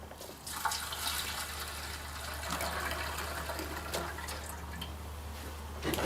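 Old, bad gasoline trickles into the carburetor of a rusty tiller left outside for over seven years, a soft, steady pouring splash with faint drips, close and fairly quiet, no speech.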